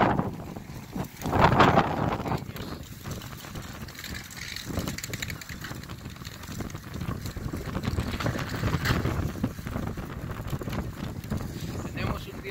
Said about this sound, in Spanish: Bastante ventoso, amigos, con mucho aire.